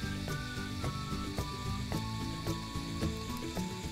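A sticker printing machine feeds out a color photo print, giving a steady mechanical whir with a regular series of clicking, ratcheting steps about every half second, fairly close and with no talk over it.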